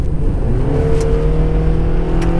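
A Honda CR-V with a 2.4 engine and CVT drones loudly under full-throttle acceleration, its engine note steady and rising slightly from inside the car.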